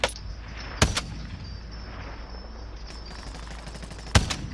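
Gunfire in a battle royale video game: two sharp, loud shots about three seconds apart that stand out over a steady hum of game ambience, with no talking.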